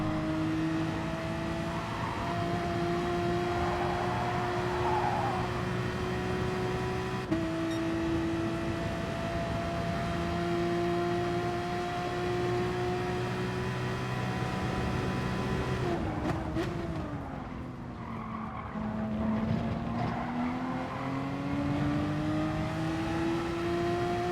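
A Porsche race car in Gran Turismo Sport holds a steady, droning engine note that climbs and dips through gear changes and revs. The engine sounds moderately close and runs continuously with no talk over it.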